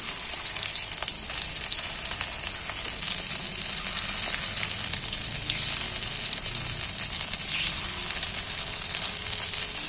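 Shrimp frying in hot oil in a pan for a Bengali egg-and-shrimp dish, a loud, continuous sizzle with small crackles and pops throughout, no one speaking.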